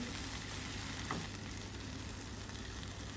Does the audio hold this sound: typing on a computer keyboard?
no